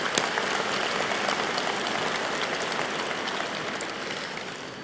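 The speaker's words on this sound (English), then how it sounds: "I think that owes you all a round of applause." A large commencement crowd applauds in a hall, dense steady clapping that holds at an even level and fades slightly near the end.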